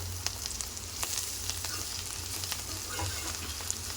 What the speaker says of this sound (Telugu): క్యాబేజీ మధ్య మధ్యలో మూత తీస్తూ కలుపుతూ ఇలా ఫ్రై చేసుకోవాలండి దీన్ని